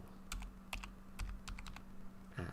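Keystrokes on a computer keyboard entering account details, a few quick bursts of close, crisp clicks with short pauses between them, alone without talk.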